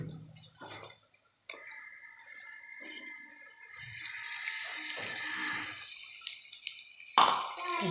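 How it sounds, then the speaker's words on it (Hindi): Water poured into a pan of sem (flat bean) vegetable curry cooking on the stove, a steady close splashing and trickling that runs for several seconds over faint kitchen clatter. "हम इसमें थोड़ा और पानी ऐड करेंगे।"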